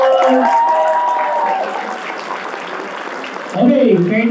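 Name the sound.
seminar audience applause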